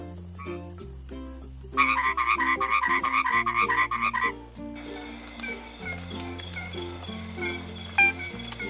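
Several kinds of frogs croaking in turn, from low droning calls to a fast rhythmic chorus of rapid repeated croaks in the middle, each call type distinct and fairly close, no talking.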